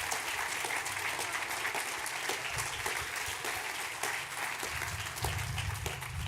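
Sustained applause from a university event audience fills the room, dense and even throughout, with a few whoops and cheers mixed into the clapping.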